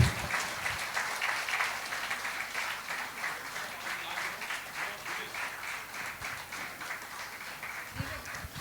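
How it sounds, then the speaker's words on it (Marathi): An audience at a Marathi comedy show by Johnny Rawat breaks into loud, sustained applause, a dense wash of clapping that holds steady for several seconds, with a few voices mixed in. "या ठिकाणी जरा जोरदार टाळ्या झालं पाहिजे"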